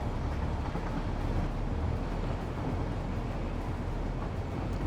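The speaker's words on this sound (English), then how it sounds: "First, I gotta figure out why this train is going the wrong way." A train in the video game Satisfactory rolls along with a steady, dense rumbling roar that holds constant throughout, with no pauses and no voices.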